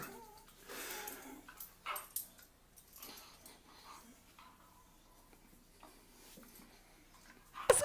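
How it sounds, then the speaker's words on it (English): A dog whimpering and giving soft yips and barks, faint and intermittent, with thin whines between a few sharper outbursts, including one at the very end. "And this is my dog, Joni."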